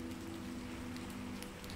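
Heavy night downpour outside a bed-and-breakfast with a wooden facade, a dense continuous hiss of rain on surfaces with scattered drop patters, steady and even throughout, no voices.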